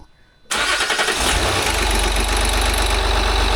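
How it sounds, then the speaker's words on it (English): A Land Rover engine cranks and catches after a brief quiet moment, then settles into a loud, steady idle right up close. "Start your engine."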